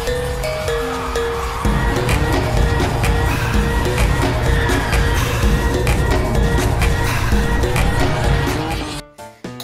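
A Japanese JDM drift car, such as a Nissan 350Z or RX7, roars loudly and continuously with engine drone and tire noise, cutting off abruptly near the end.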